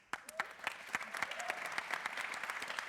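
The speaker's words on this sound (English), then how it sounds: "round of applause" A live audience at a Go programming conference applauds in a dense, lively burst of many hands, with a few voices faintly beneath it.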